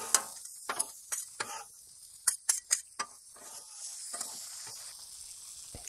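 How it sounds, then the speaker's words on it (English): Kielbasa and pierogies sizzle steadily on a hot griddle while a spatula scrapes and clacks through them in several quick, sharp strokes, the frying hiss continuing between the stirs. "One more stir."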